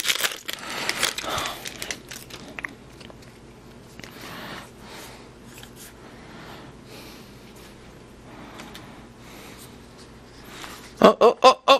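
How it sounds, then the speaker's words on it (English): Stacked Kaladesh Magic cards topple and spill across a surface in a scattered, crinkly clatter, busiest at the start, then quieter shuffling, ending with a few sharp close slaps. "we're just dropping cards everywhere"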